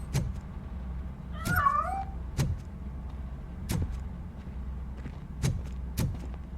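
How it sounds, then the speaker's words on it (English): A cat in the video game RoboCop Rogue City, hidden inside a piano, gives one short wavering meow amid a steady low hum, while sharp clicks or taps repeat at intervals around it. "That cat must be hiding inside."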